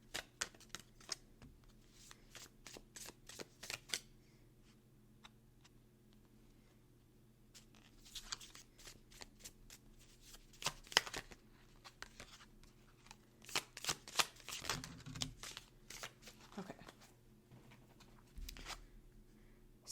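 A tarot deck is shuffled and cards are drawn close by: soft riffling and flicking bursts, quiet and intermittent, with a few louder snaps of cards being laid down.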